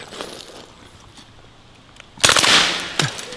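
A suppressed MP5 submachine gun fires a short full-automatic burst at a steel gong outdoors, a quick rattling volley followed by a single sharp crack, after a quiet lead-in.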